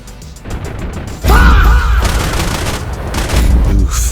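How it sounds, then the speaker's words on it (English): Rapid 37mm cannon fire from a MiG-15 in a jet dogfight video game, a heavy burst of booming shots over a constant engine roar, loud and close, with rattling impacts and mechanical clatter trailing through the mix. "37mm cannon that killed the pilot instantly. I love that sound."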